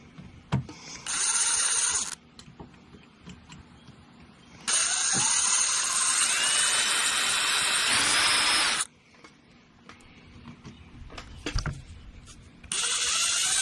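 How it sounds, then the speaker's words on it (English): A power drill spins in reverse to drive a left-handed drill bit into a broken screw on a Tacoma antenna, giving three loud whirring bursts separated by quieter gaps with faint clicks. "this is a left-handed drill bit, so you got to spin your drill in reverse"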